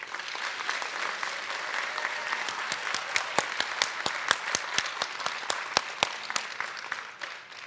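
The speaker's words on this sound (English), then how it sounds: "Please give them a round of applause" Applause from a graduation audience at a regional adult education ceremony, a steady patter of many hands with sharp individual claps standing out, building and then tapering off near the end.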